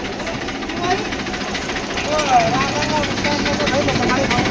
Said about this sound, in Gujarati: કિરણ ટ્રેક્ટર ચલાવે ખેતરમાં